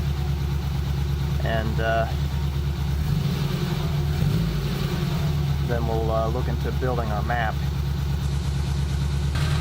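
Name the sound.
Suzuki Samurai engine idling while warming up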